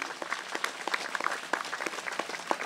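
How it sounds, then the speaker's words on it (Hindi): A congregation at a Bible convention applauds during worship, with moderate, somewhat uneven clapping of distinct individual claps from a smallish group. "तालियां बजाइए प्रभु के लिए।"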